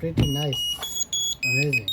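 An MSEBent tracker tag plays its find-me alert as short, high electronic beeps and chirps that repeat in bursts while someone talks over them.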